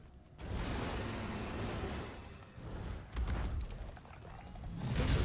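Sticky ammo is reloaded into a heavy bowgun, a Demon Lord Beastbuster, in Monster Hunter World: Iceborne, a run of mechanical clunks, creaks and ratcheting knocks over a rumbling game background, with no talk.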